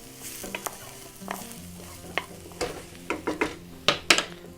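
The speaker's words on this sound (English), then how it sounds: "Garlic next. Always use wooden spoon to protect your pan." Garlic sizzles in a pan while a wooden spoon stirs and scrapes it, a steady hiss broken by sharp knocks and scrapes that grow louder and quicker toward the end.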